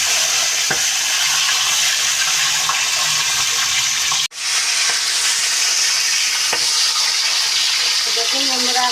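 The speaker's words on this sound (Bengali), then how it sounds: "আমি এখানে মাছের মাথাটাকে আমি এখন ভেজে নেব" Fish head frying in hot oil in a home kitchen, a continuous loud sizzle with a brief sharp break midway and occasional faint clinks.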